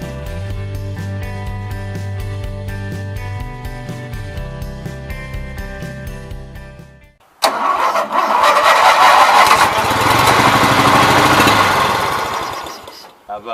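Roper Rally riding mower engine cranking and trying to fire, a loud rough churning burst that rises and sustains for several seconds after a steady rhythmic passage of music.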